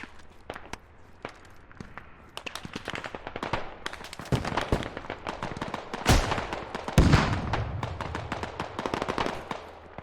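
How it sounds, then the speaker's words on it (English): A missile strikes an MRAP armored vehicle in the military shooter game Squad, heard amid a chaotic battlefield of sharp gunfire bursts, loud impacts and explosions, with several heavy blasts standing out partway through. "Just hit an MRAP with a missile."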